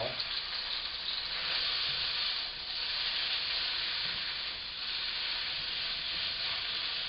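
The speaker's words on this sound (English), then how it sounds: "I do have the potatoes frying up nice and good, nice and well" Potatoes frying in a pan, a steady close sizzle and hiss that runs evenly throughout with slight swells, no talking.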